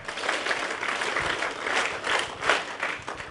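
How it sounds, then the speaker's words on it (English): A workshop audience on a university campus claps together, a short burst of soft, fairly distant applause that pulses in waves, with no talk over it. "One SRM clap."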